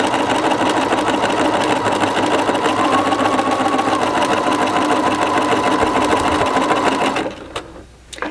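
A sewing machine stitches a blind hem in fabric, its rapid steady motor whir running loud and close for about seven seconds before it slows and stops.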